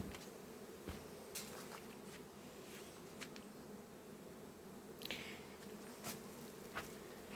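Honeybees buzz steadily in an opened hive in autumn, a dense, close hum with a few soft rustles and brief louder passes overhead.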